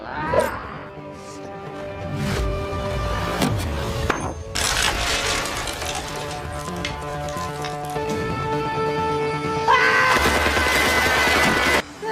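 Bursts of gunfire crack amid a loud action scene, with sharp shots, metallic clatter and rumbling background effects layered together.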